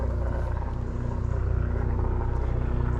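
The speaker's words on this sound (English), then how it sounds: "Why did they decide to bring the helicopters out to play when I decided to start filming?" A steady, droning helicopter engine rumble fills the air overhead, loud and continuous with a low throbbing pulse, and no voices.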